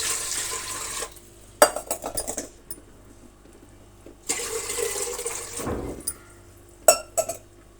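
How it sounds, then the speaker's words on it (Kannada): Water poured from a mug into a cooking pot on a stove, three separate splashing pours with clinks of metal vessel between them, close and fairly loud. "ಆ ಪಾತ್ರೆಗೆ ನೋಡಿ ಈ ಚೆಂಬಲ್ಲಿ 3 ಚೆಂಬು ನಾನು ನೀರನ್ನು ತೆಗೆದುಕೊಳ್ತಾ"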